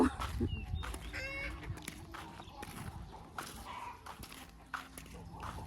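Chickens cluck and squawk in a busy farmyard, with scattered background noise and occasional distant voices.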